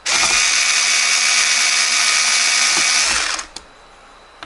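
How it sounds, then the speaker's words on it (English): A small electric screwdriver whirs steadily at high speed while driving screws into a mini ITX PC case, running loud and continuous for about three seconds before stopping with a brief click. "I'm going to cheat and use my little electric screwdriver"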